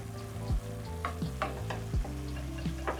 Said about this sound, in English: Stir in the ginger.